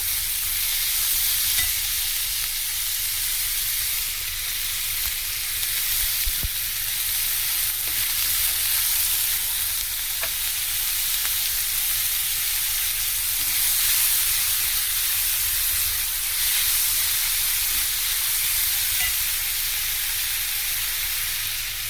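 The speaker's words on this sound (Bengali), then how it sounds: "পেঁয়াজটা দিয়ে দেব। পেঁয়াজটাকে ভেজে নেব।" Onions fry in a pan with a steady, even sizzle and hiss that holds without a break, an occasional soft stir or tap breaking through, and no voices.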